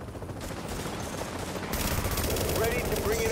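Gunfire in The Division video game: rapid automatic bursts rattling continuously from several weapons, growing louder in the second half, with game effects mixed in.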